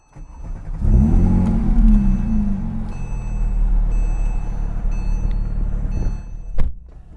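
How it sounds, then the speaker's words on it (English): A Porsche GT3's flat-six engine cranks and fires up loudly up close, then holds a strong rising rev before settling into a steady idle, with a sharp burst near the end. "Fire up that flat six."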